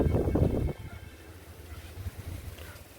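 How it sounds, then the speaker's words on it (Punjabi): Strong, cold wind buffets a microphone in rough, low rumbling gusts, loudest at first and then settling into a fainter, uneven blowing. "ਕਿੰਨੀ ਤੇਜ਼ ਹਵਾ ਚੱਲਦੀ ਆ"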